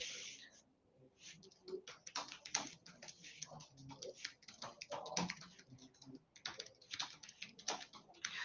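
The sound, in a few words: typing a query on a computer keyboard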